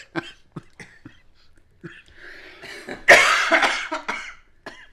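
A series of short, harsh coughs and throat-clearing sounds, close by, building into a louder, raspier coughing fit toward the end.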